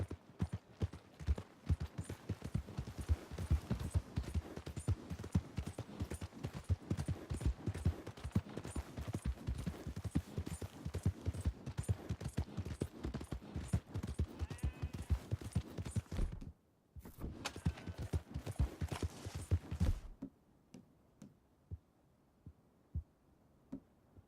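A horse clip-clops along in Red Dead Redemption 2, a steady rapid run of hoofbeats that stops briefly, resumes, then fades to near silence for the last few seconds.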